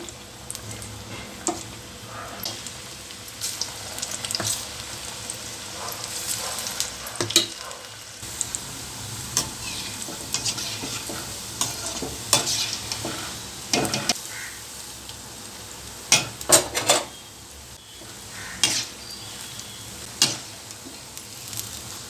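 Mint and curry leaf bondas deep-frying in hot oil give a steady, crackling sizzle with bursts of bubbling and a few sharp pops, close and fairly loud, with no voices.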